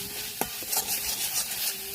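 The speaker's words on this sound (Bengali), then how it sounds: "একটু নেড়ে দিয়ে কষাবো।" Spiced koi fish masala sizzles in oil as it is stirred in a pan, a brief close hiss with a couple of soft scraping strokes.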